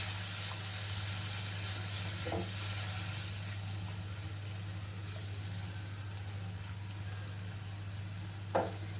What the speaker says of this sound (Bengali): গ্যাসের ফ্লেমটাকে এবারে হাইতে করে দিলাম। মশলাটা খুব ভালোভাবে কিন্তু কষিয়ে নেব।